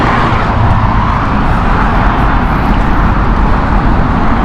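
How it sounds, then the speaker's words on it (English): A British Airways Boeing 777-200ER at Heathrow, a loud continuous jet engine roar with steady broadband rumble, sustained throughout without talking. "Okay, Mumbai flight 777 here from British Airways. This is 777-200ER."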